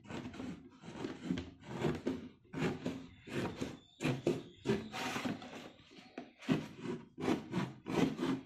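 Sawing through a metal drum at home, a series of rhythmic rasping strokes repeating steadily and close by, each pass a short burst with brief gaps between.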